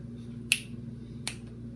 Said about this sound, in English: I guess it does work. Like, look, I'm clapping